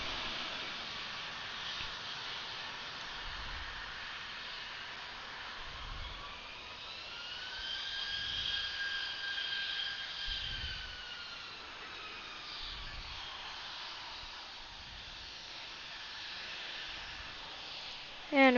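A Southwest jet airliner roars distantly during takeoff at Atlanta airport, a steady broad rumble with a rising and falling engine whine, heard from afar with low thumps underneath.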